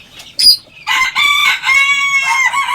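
Backyard hen with a fluffy crest, surrounded by her chicks, gives a short run of loud, close clucks and crowing-like calls with high harmonic tones, a brief sharp peep standing out near the start.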